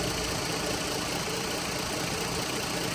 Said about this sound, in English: currently we are running at idle